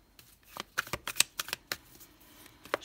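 Tarot cards handled and laid on a table during a reading: a series of crisp, close slaps and flicks at an irregular rhythm, with no talking.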